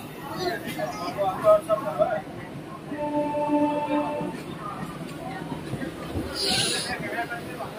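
A local train from Digha pulls into Howrah station, a low rolling rumble with hiss and a sustained tonal whine midway, while passengers chatter nearby and people talk over it.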